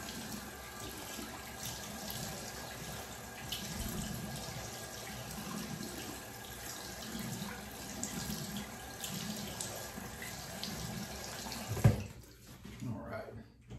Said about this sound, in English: I just rinse my face off with some cold water.